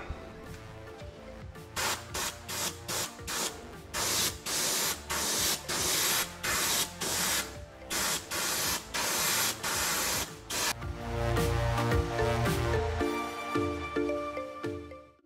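Spray gun laying fine glitter coats onto a taxidermy red fish mount, rapid rhythmic hissing bursts in quick succession, close and fairly quiet, ending in a longer rougher spray.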